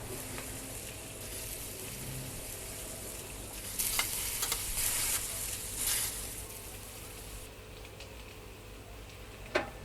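Meat searing in a pan within a video game: a steady, quiet sizzle runs throughout, with a brighter, louder hiss bursting in twice midway, and no speech.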